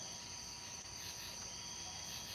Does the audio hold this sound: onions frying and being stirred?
no